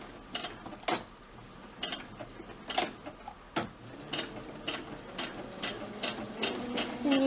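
Sewing machine stitching fabric for a homemade face mask, running in short bursts of rapid mechanical clatter separated by brief pauses, close and fairly loud with no talk.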